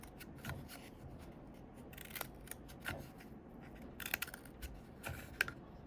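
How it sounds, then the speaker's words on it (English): Scissors snip a series of short slits along one side of a tube for a sculpture flange, quiet crisp clicks coming irregularly a few at a time, close by with no talking. "what you want to do for flange is create some cuts on one side of the tube"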